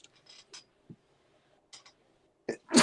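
A single sharp, loud sneeze bursts out at the very end after a few quiet breaths and small clicks.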